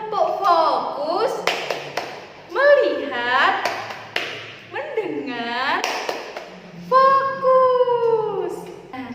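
Crisp hand claps in the "tepuk fokus" clapping game come in short rhythmic clusters, spaced between lines of a woman's sing-song chanting in a storytelling session for children.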